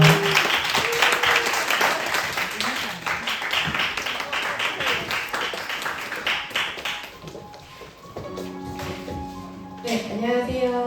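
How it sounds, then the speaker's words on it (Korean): A church youth-service congregation gives loud, steady applause to welcome its youth leaders to the front. It lasts about seven seconds, then thins out as soft tonal music comes in. "우리 청년 목자님들 앞으로 오실 때 우리 큰 박수로 맞이하도록 하겠습니다."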